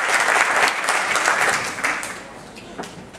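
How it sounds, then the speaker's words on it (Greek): Audience applause at a New Year cake-cutting event of an air force unit, a loud burst of dense clapping that gradually fades away over a few seconds. "αξίζει άλλο ένα δυνατότερο χειροκρότημα"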